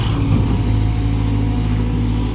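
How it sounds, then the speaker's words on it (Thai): Turbo diesel engine of a Cat 320GC excavator, a Cat 4.7 turbo rated at 158 horsepower, on road-widening work, running loud and close with a deep, steady rumbling idle and a slight surge near the start. "เครื่องยนต์ แคทสี่เจ็ดจุดหนึ่งเทอร์โบ ร้อยห้าสิบแปดแรงม้า"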